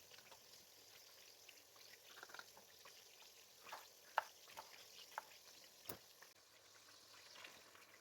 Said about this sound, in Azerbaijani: kotletin yanında qızardıram.